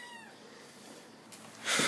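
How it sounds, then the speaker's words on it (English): Pet cat meowing indoors, a short drawn-out meow at the start, faint and fairly close, followed by a quiet room and a sudden burst of rustling. "I don't know if you guys heard him meowing"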